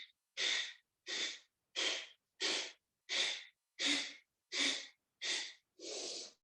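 Nine forceful exhalations during a yoga and Pilates stretch class, each a short breathy rush close to the microphone, spaced at a steady rhythm of about one every second with silence between and no talking.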